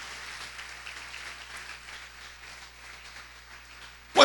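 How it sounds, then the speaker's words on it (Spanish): A church congregation claps during a Spanish-language family service, a faint, diffuse patter of hands that swells into a brief, sharp, louder burst at the very end. "Denle un aplauso fuerte al Señor."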